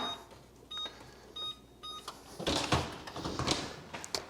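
A kitchen oven being set to 360 degrees while banana bread is made, giving a series of short electronic beeps at even intervals, followed by clattering and rustling.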